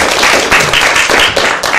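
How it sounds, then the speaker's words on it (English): An audience applauds after a speaker is introduced at a legal ethics lecture, a dense and even wash of clapping filling a short moment. "it's always nice to get the applause first"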